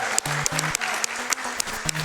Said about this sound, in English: Come on, let's cheer Freeland on here.